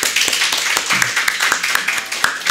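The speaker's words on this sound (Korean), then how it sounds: "우리 큰 박수로 좀 환영할까요?" Church congregation applauding to welcome a visiting guest, a dense, steady wash of many hands clapping close by for a couple of seconds, with sharper individual claps standing out.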